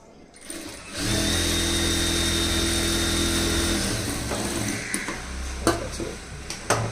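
A sewing machine stitches a high neck blouse of the Roja high neck model, its motor whirring in a steady close burst for about three seconds before dropping to quieter, intermittent clatter and knocks.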